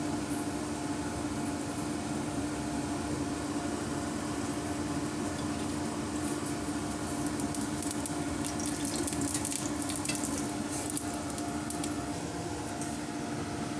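Oil heats in a kadai for paneer fried rice, giving a steady, close hiss with faint crackles that grow a little busier partway through, over a constant low hum.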